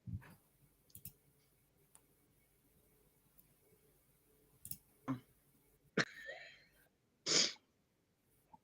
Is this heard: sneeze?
yes